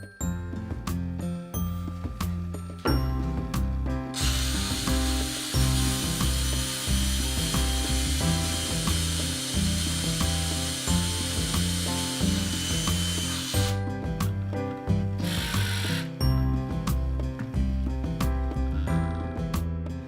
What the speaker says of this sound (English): we can drill smoothly into the cured epoxy and that it will accept the threads of the screw